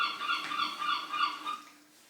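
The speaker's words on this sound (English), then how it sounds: "It's a seagull. A gull." Gull calling in a sound quiz, a run of several nasal, honking cries close and clear, fading out at the end.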